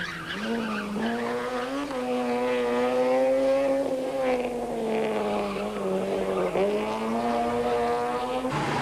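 Fiat Uno rally cars race through a 1990 rally stage, high-revving engines whining loudly and continuously with pitch rising and dropping through gear changes.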